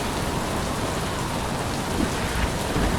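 Heavy rain falls in the sailing game Following Seas as a dense, continuous hiss. It stays steady and loud throughout, with no voices.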